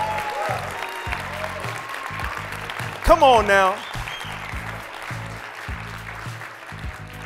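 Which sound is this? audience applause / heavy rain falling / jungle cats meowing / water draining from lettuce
audience applause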